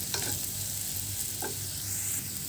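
Turmeric and chilli powder frying in a pan for a curry, a soft continuous sizzle with a few light scrapes of stirring, fairly quiet and close, no voices.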